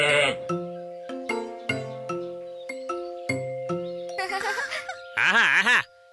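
A cartoon baby goat bleats repeatedly in short, steady calls, followed by higher, longer wavering bleats near the end, close and clear in a children's animated story.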